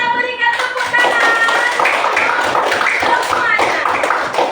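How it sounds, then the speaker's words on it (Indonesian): Students in a classroom clap together after a teacher's praise, a loud dense burst of hand clapping that starts as a voice trails off and keeps going, with talk mixed in. "Kita berikan tepuk tangan"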